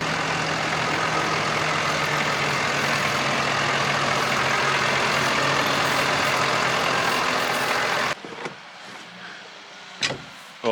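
Kubota U50-5 mini excavator engine running during unloading from a trailer, a steady close diesel drone that cuts out abruptly, leaving quiet with a few faint knocks and clatters.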